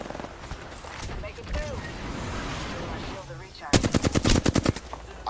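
Rapid automatic gunfire in a video game breaks out near the end in a loud, evenly spaced burst of about a dozen sharp shots, after a stretch of voices and busy game noise.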